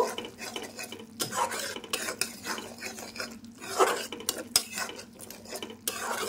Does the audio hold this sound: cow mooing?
no